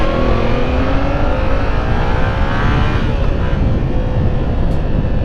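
A 2017 Yamaha FZ-07 motorcycle accelerates hard, its engine note climbing steadily in pitch as it pulls through the gears, loud and close over heavy wind rush.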